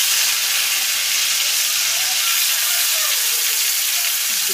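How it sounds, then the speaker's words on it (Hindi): Fish pieces fry in hot oil with a loud, steady, broadband sizzle and hiss that continues without pause and with no voices. "तेल गर्म हो चुका है, अब इसमें एक एक करके मछली की पेस्ट डालेंगे।"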